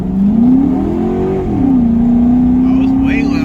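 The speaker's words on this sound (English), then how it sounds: "it's way louder with the exhaust valves closed" A 5.7L HEMI Charger engine with an AirAid intake revs hard and loud with its exhaust valves closed, its pitch climbing, dipping, then holding a steady drone, with a voice briefly audible underneath.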